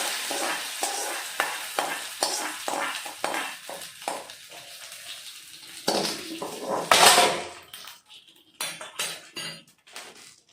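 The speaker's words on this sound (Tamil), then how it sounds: "இந்த தாளிப்பை இந்த வாழைத்தண்டு பாசிப்பருப்பு சேர்ந்த அதோட சேர்த்துக்கலாம்." Tempering being stirred into a banana stem and moong dal kootu, with a spoon scraping and clinking against the pan in a steady rhythm and a sizzling burst partway through.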